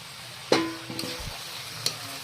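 Spices frying in oil in a pan while cooking jackfruit curry, with a quiet background sizzle and a few sharp scraping strokes of a stirring utensil against the pan.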